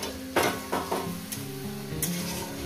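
Okra and fish curry masala with tomato sizzling and being stirred in a pan over medium gas, with a steady fry hiss broken by a few sharp clinks and scrapes of a spoon against the pan.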